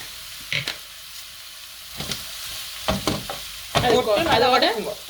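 Dried red chillies and fennel seeds splutter and sizzle in hot oil in a home kitchen, short crackling bursts building into a louder, busier frying hiss near the end, with no talk over it.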